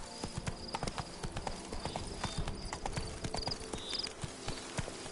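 Horse hooves gallop in The Witcher 3 video game, a dense, steady clip-clop rhythm of close, fairly loud hoofbeats running continuously throughout.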